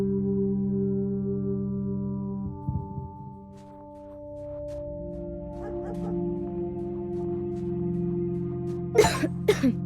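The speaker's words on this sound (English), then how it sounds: "I don't like the sound of your cough." Two sharp coughs near the end over a steady, low musical drone, in the World War 2 survival game Torn Away.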